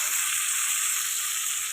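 Spice paste frying in a pan alongside fried fish for a thin fish curry, giving a steady, close, even sizzle that holds at one level throughout, with no talking.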